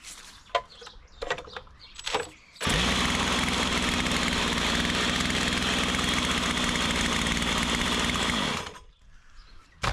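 A small, cold chainsaw engine, started with a drill and used to power a Thai longtail boat, bursts to life after some clattering and clucking, running loud and steady at high revs for several seconds before cutting off.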